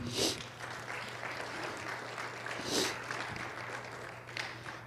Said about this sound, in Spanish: Denle un aplauso al Altísimo.